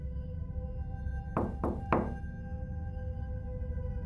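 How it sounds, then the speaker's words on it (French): Three quick knocks on a door ring out in a fast, even sequence over a steady low background hum. "Ils frappent à la porte."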